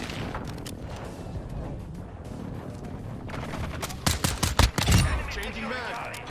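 A P890 pistol fires in Modern Warfare II multiplayer, loosing a rapid burst of about six or seven loud, sharp shots. The shots come late, over constant game ambience and movement noise, with someone talking throughout.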